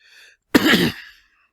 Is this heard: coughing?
yes